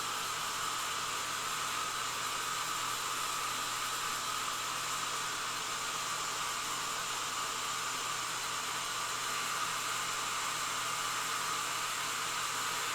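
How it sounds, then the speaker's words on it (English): A hair dryer blows steadily on a freshly painted Funko Pop Warhammer 40,000 Intercessor model, giving an even, close, unbroken rushing hiss with no talk. "I'm going to quickly hit this with the dryer"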